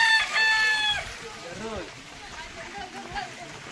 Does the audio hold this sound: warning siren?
no